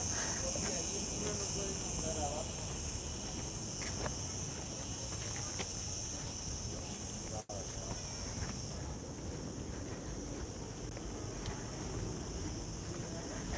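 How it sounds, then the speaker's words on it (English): Insects buzz in Mediterranean summer heat in Santa Ponsa, Majorca, forming a constant high, dense drone that lasts throughout beneath outdoor ambience and occasional faint sounds. "It's kind of like a beetle-y type of insect, and they make like this huge buzzing noise."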